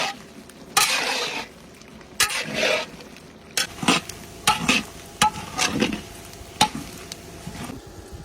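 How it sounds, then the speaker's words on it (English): Pork cracklins cook in hog lard while a spoon or paddle scrapes and stirs in bursts, each stroke a loud rasping swish over a steady low sizzle, with short pauses between strokes. "20 minutes of non-stop stirring. This is where they start sticking."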